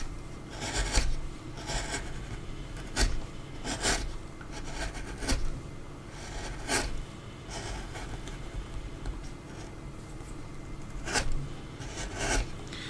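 Hand chisel carving a wooden dragon figure and cutting through a solid, slightly harder knot, producing a steady series of close, scraping rasps and short shaving strokes at an irregular rhythm, with no talk.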